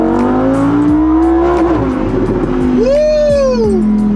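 Lamborghini accelerating hard along a Miami street, the engine rising in pitch through loud, close revving pulls with a sharp upshift midway and a second climbing surge.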